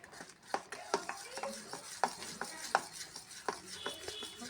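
Pitha batter for coconut-filled patishapta is mixed by hand in a bowl, with soft, irregular wet squelches and light knocks repeating at a quick, uneven pace, faint and close, with no talking.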